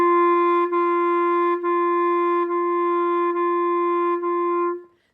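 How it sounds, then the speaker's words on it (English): Clarinet playing a single sustained pitch with legato tonguing, several smooth connected notes with barely audible breaks between them, close and clean, fading out at the end. "So basically a legato tongue sounds like this."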